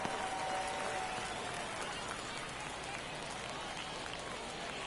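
A baseball crowd at a Puerto Rico league game in the bottom of the 9th inning, a one-run contest, gives off a steady, broad roar of cheering and clapping from all around.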